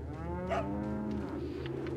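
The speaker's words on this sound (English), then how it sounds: "Hi, cows." Cows in the video game Resident Evil 4 give a long, loud, drawn-out moo lasting about two seconds, clear and close with no talk over it.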